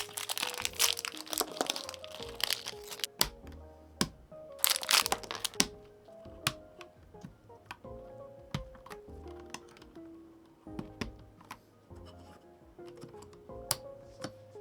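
Switches being pulled and swapped on an AULA WIN60HE magnetic keyboard: scattered sharp plastic clicks, cracks and ticks, some in quick clusters and others isolated, close-up with no talk.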